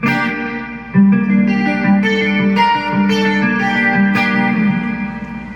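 Electric guitar played through a BOSS IR-200 on its studio reverb setting, sustained chords and single notes ringing close and clear with a short, subtle ambient tail, no voices over it.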